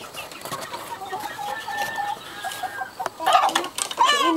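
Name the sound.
chickens clucking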